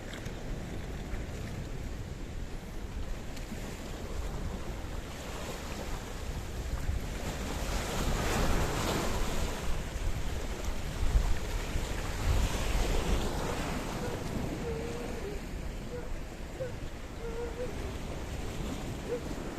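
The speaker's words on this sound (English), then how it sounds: "that is the sea off the harbour area in Paphos" Sea waves roll and wash off the harbour area in Paphos, Cyprus, a continuous broad surf roar with wind buffeting the microphone, swelling louder midway before easing back.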